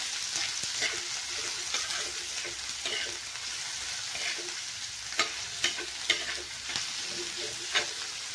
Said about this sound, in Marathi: कांदा मस्त चांगला परतून घ्यायचा आहे आपल्याला